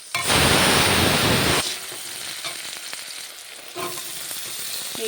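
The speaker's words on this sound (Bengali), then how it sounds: "এবার আলুটা একটু ভাজা হবে" Thinly sliced potatoes fry in hot oil with black cumin, a loud, dense sizzle bursting for over a second, then settling to a quieter steady crackle with occasional stirring scrapes.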